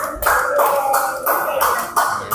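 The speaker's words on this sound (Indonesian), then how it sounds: "Tepuk tangan dulu boleh semuanya." Listeners in a classroom teaching session clap in several loud bursts separated by brief gaps, close and fairly sharp, with no speech over it.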